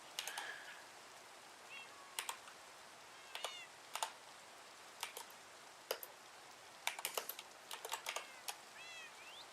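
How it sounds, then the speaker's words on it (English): Sparse, irregular clicks of typing on a computer keyboard, quiet and close, with a few short chirping, meow-like calls in the background. "Why isn't my keyboard working?"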